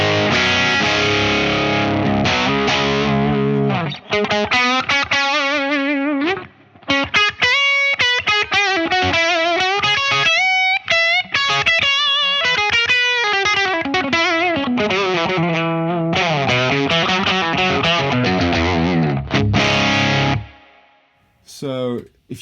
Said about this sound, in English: So if I start running the gain higher, you'll notice it starts with the humbuckers.